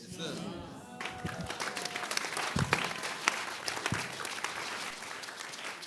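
Church congregation clapping during a sermon by a prophet, steady crowd applause filling the whole stretch with a few sharper claps standing out, a voice briefly mixed in near the start.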